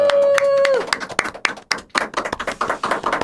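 A studio audience claps to welcome a politician onto a Korean talk show, starting after a brief tone and then building into a burst of close, sharp handclaps that thin out into scattered claps.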